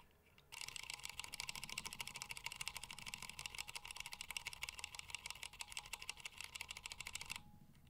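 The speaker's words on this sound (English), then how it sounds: "Let's start off with a test, sound test, without any keycaps on." Rapid, close clacking of stock Retool black switches on a mechanical keyboard with no keycaps fitted, typed in a fast continuous burst lasting about seven seconds.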